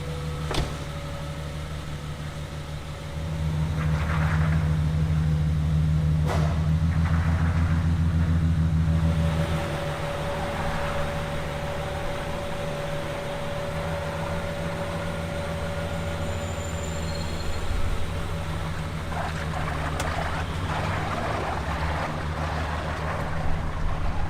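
Customised Rolls-Royce styled like a Mad Max vehicle on a drive: a loud, steady low engine drone and road rumble that swells after a few seconds and holds, with no voices.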